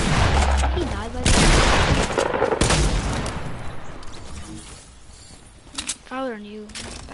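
Rapid gunfire bursts in Fortnite, loud and dense through the first few seconds, then fading into scattered shots while a player speaks over the game.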